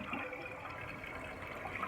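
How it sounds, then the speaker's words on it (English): A toilet flushes and refills after a new install, a steady close rush of running water filling the bowl and tank with no talk. "we get a good flush, and it refills."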